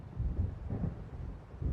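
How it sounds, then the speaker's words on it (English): Thunder from an approaching storm in the video game Alan Wake rolls as a low, muffled rumble, swelling and fading in soft pulses with no talking. "It seems there's a storm coming."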